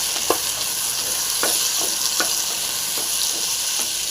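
Tomatoes frying in a pan with green chillies for a chicken gravy, a steady bright sizzle with several sharp spatula scrapes and stirs scattered throughout, close and fairly loud, no voices.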